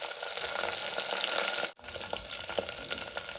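Dried red chillies frying in hot oil for a toor dal with amaranth greens, a steady dense sizzle throughout with a brief dropout near the middle, close and fairly loud with no voices.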